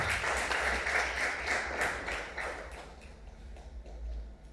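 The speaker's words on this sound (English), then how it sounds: "Another round of applause, please." An indoor audience at a university project launch applauds in a dense burst of clapping that thins out and fades after about three seconds.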